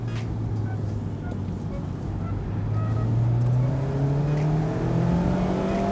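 A Mazda MX-5 RF sports car accelerates hard, its engine note climbing steadily in pitch through a long pull. The sound is loud and close, with no talking.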